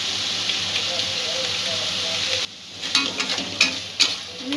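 Spiced chicken curry with salt, chili powder, coriander and chicken masala sizzles steadily in a pan, then the frying drops and a spoon scrapes and stirs in several sharp bursts, close and alone.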